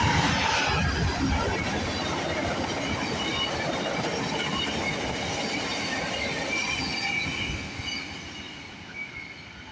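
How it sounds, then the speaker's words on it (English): VIA Rail passenger train 82, pulled by locomotive 919 with four coaches, rumbles past close by on a CN line in Ontario. It makes a loud, continuous roar with wheel noise and faint squeals, then fades slightly toward the end. "All right, we got Via 82 coming down the line."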